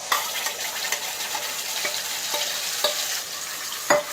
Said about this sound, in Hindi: अब इसमें पहले हम दही डालेंगे और दही डालने के बाद इसको चलाना है